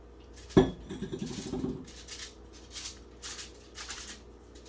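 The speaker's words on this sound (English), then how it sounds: "we're gonna take our mixture and spread it in the pan" A cheesy pizza crust mixture is spread into a greased, sprayed pan: an initial metallic clink, then soft, continuous scraping and smearing sounds close by.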